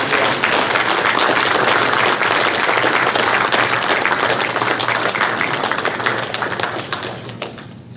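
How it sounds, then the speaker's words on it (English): Room of attendees at a 16mm Association AGM giving Derek a round of applause, loud, dense clapping that carries steadily for several seconds before tapering off near the end. "Can we have a round of applause for Derek?"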